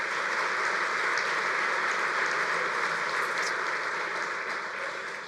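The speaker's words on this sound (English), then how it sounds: "Please give yourselves a round of applause for all you're doing for youth bowling." Convention audience at a youth bowling association annual meeting applauding steadily, a dense even wash of clapping throughout that tapers slightly at the end, with no talk over it.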